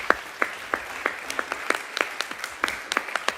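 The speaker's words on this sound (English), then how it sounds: "Clap for these people." An audience at a dance performance claps together in a steady rhythm, about a dozen sharp, evenly spaced beats over a low room hum, with no voices on top.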